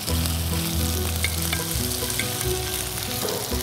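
Macaroni frying in a pan as milk, cream and a little sugar are added, a loud steady sizzle running throughout with no voices.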